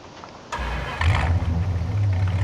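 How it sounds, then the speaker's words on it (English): A pickup truck engine in Farming Simulator 19 cranks and catches at about half a second, then settles into a loud, steady mid-pitched idle with a slight rev, close and with no talk over it. "Love the sound of this pickup."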